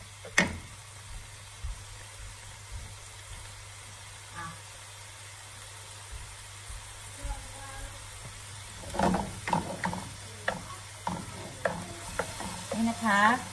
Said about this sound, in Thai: ใส่ซอสปรุงรสลงไปผัดให้มันแห้งๆก่อน